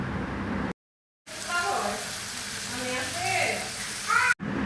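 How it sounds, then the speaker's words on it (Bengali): Shrimp fry in a pan with turmeric and salt, giving off a close, steady sizzling hiss that cuts out briefly near the start, with faint voices in the background. "এখানে হচ্ছে চিংড়ি মাছটি ভেজে নিচ্ছি।"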